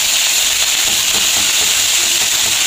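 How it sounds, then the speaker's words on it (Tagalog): Garlic, onion, tomato and chopped pechay sautéing in a hot pan, a steady loud sizzle and hiss held without pause from start to finish, with no voices. "Maggisa tayo ng bawang, sibuyas, kamatis."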